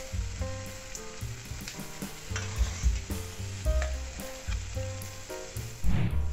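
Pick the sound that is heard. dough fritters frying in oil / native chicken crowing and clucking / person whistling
dough fritters frying in oil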